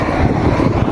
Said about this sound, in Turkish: Acayip bir kafa rüzgarı var aynı zamanda.